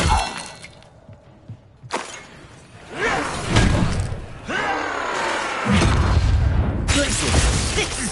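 Spell-casting effects in a Harry Potter video game, with repeated whooshing bursts and heavy thuds and crashes as spells hit, mixed with game voices speaking.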